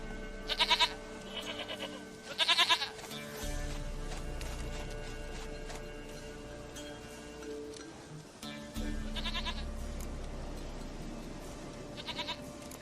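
A goat in The Witcher 3 video game bleats in short, loud, wavering bursts, two early and two later, over a low game ambience.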